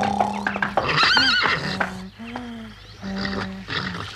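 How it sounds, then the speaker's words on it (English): A cartoon horse neighs loudly in a long, wavering whinny, then gives shorter snorting neighs, close by with no talking. "Mon Dieu, that was D'Artagnan's horse."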